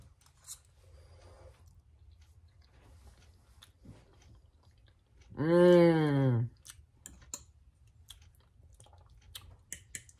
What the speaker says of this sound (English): I got to smack on it to get the taste